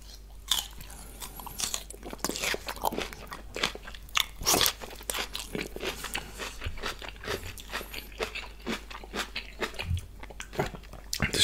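Crisp, close-up crunching and chewing of Shanghai bok choy and kimchi with rice, a steady run of sharp bites and wet mastication alone at an intimate, near distance.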